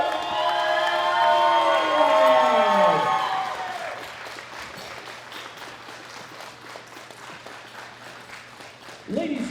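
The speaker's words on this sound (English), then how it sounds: "a huge round of applause for Ana Castellan." Applause from a crowd at a world classic powerlifting championship, greeting the women's open 72 kg gold medal winner from Brazil; steady clapping fills the room throughout, with a tonal announcement chime fading out at the start and a brief swell at the end.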